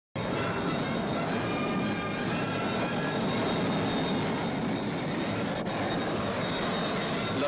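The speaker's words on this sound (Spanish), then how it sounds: "Las diversas escuadrillas sobrevuelan los paseos de la Castellana y de Calvo Sotelo" Steady roar of military aircraft squadrons passing overhead during a 1978 Spanish military parade in Madrid, a broad continuous rumble holding at the same level throughout, with no voices.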